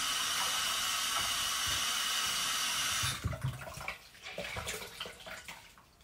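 Tap water pours steadily and loudly into a basin for a few seconds, then stops, leaving quieter splashing and dripping as the water is warmed for a rag.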